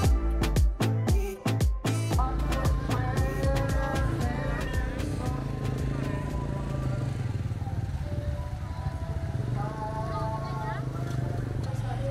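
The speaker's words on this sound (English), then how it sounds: "you need to ride this yellow-green tricycle" A yellow-green tricycle on the road to Don Pilimon Nature Resort in Janiuay, near Iloilo City, Philippines, chugs with a steady, loud motor drone and rattling, preceded by a few sharp knocks at the start, with no talk.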